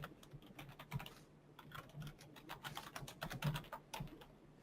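Fingers type on a computer keyboard, the keys clicking in quick irregular bursts with short pauses, close and fairly quiet with no talking.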